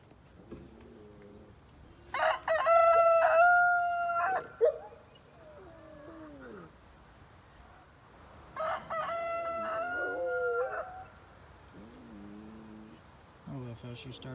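A rooster by a backyard chicken coop crows twice, loud and drawn out, while a person mimics the crowing in between and after; faint outdoor background throughout.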